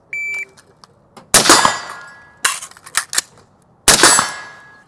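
Shot timer beeps at an outdoor gun range, followed by several sharp, loud gunshots in quick bursts with metallic clangs of rounds striking steel targets, no talking.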